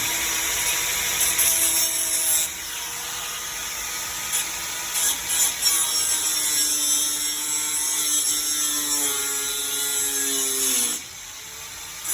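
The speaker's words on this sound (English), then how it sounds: "Now for the fun part, cutting this. Got the angle grinder." An angle grinder cuts into a storm door jamb, its high whine steady and loud with shifting pitch as the disc bites and eases, then winding down near the end. No voices.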